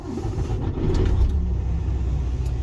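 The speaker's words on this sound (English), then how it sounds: "I now start the vehicle." A truck's diesel engine turns over and catches inside the cab, settling into a steady low rumbling idle close by with no talking.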